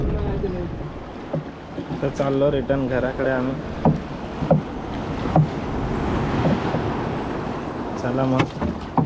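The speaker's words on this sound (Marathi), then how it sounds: "बोटिंगचा एक्सपिरियन्स चांगला होता." A motorboat's steady engine drone and water rush run underneath, with people talking over it throughout, on a boat ride at the Sangam Point, Devbagh, Malvan.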